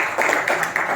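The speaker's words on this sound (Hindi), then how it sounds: "ताली बजाओ." Students in a classroom clapping together, a quick steady patter of hands lasting about a second, fairly close and mid-loud.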